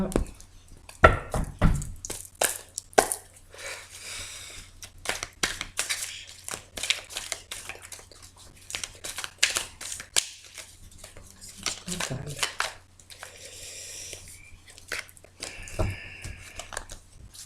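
Tarot cards being cut and shuffled during a card reading, a run of soft crisp riffles and slaps, some bursts close and sharp, with brief pauses in between.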